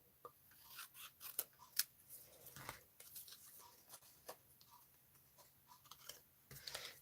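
Scissors cut down the middle of a paper heart, a faint close-up series of small snips and crisp paper rustles at an uneven pace.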